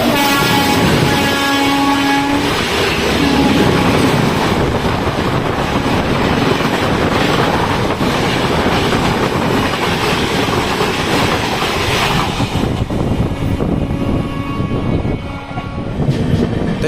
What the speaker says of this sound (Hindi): तो सामने से आ रही है अपनी सूबेदारगंज देहरादून एक्सप्रेस।